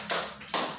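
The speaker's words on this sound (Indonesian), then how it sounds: "tepuk tangan untuk semangat" A classroom of students claps hands for encouragement: two sharp, close group claps separated by a short pause, with no voices.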